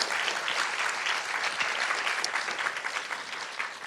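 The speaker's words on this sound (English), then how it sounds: "Let's give them a round of applause too." A conference audience gives steady, dense applause for nearly four seconds, an even wash of clapping from a large room.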